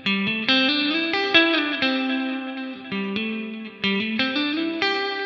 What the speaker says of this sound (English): And maybe a touch of ping-pong delay.